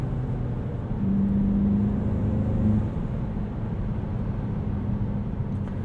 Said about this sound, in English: You can hear the turbo sounds. It's fun to rev it up, rev it out